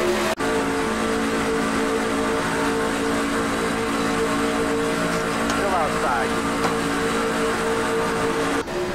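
NASCAR trucks race in a pack at Daytona International Speedway in the iRacing simulation, their engines droning loud and constant for the whole stretch.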